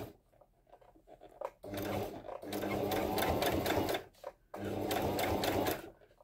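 Domestic sewing machine back-stitching a few millimetres over existing topstitching on a cushion, running in two steady loud bursts separated by a brief pause, with quiet handling sounds before and between.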